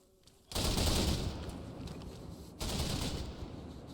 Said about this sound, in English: Start Dishka firing.